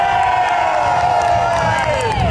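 A large crowd at a Lundi Gras riverside celebration in New Orleans cheers loudly and continuously, with whoops and high shouts rising above a dense roar.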